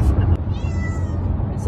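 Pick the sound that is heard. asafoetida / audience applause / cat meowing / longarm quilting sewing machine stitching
cat meowing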